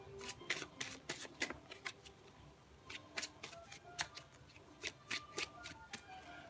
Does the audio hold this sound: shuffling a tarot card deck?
yes